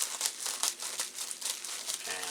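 Scissors snip through material up close in a quick, irregular series of crisp cuts with papery crinkling, fairly quiet and with no voices.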